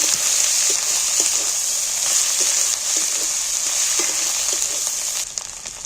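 A chilli spice paste sizzles loudly and evenly as it is sautéed in a pan, with a dense continuous hiss and faint soft stirring taps underneath.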